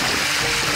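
A rain-swollen mountain creek rushes in a steady, close, full-bodied wash of water with no talking over it.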